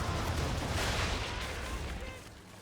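Ship cannons firing a broadside in the naval combat of Assassin's Creed 3: a heavy, booming blast of overlapping cannon fire that rumbles and slowly decays over a couple of seconds, with no talk.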